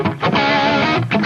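An electric guitar lead tone runs through an amp's distortion channel with a gain boost, sustained and overdriven notes ringing out loud and bright over about a second, with no talking.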